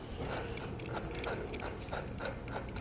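Lug nuts spun onto a trailer wheel's studs give a quick run of ratcheting mechanical clicks, close and steady.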